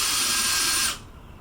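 A power drill bores a pilot hole into wood in one steady high-pitched whir lasting about a second, then cuts off sharply, leaving a quiet room.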